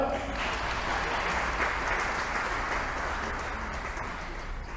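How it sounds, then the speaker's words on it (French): A congregation applauds to acclaim the Lord, a dense, sustained round of clapping from many hands filling the room, steady and loud throughout. "On acclame le Seigneur."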